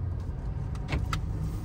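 A 2022 Ford F-450 pickup with a wide-track front end cruises in third gear, its steady low engine drone filling the cabin with a few faint brief chirps over the top.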